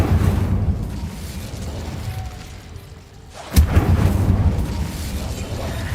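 An Incendio fire spell cast in a Hogwarts video game bursts out as one loud, sudden boom midway, with rumbling fiery roar before and after and no talk.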